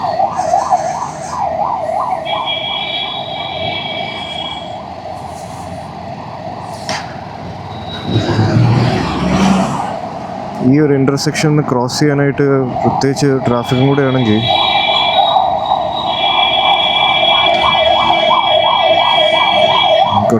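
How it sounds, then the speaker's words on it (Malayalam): A wailing ambulance siren sweeps up and down continuously near a highway intersection in Kochi, loud and close over traffic noise, with someone talking over it and a brief rougher horn-like burst midway. "ഒരു ആംബുലൻസ് വരുന്നുണ്ട്, ലെറ്റ് ദം ത്രൂ"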